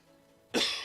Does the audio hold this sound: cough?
yes